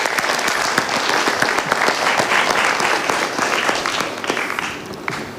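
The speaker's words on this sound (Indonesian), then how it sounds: "Tepuk tangan boleh?" An audience at an Indonesian motivational talk show applauds loudly and steadily, a dense wash of many hands clapping that tapers slightly near the end.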